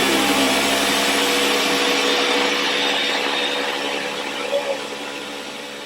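A kitchen blender purees 1.5 cups of strawberries for a strawberry frosting, whirring loudly and continuously at close range throughout, with a slight drop in level near the end.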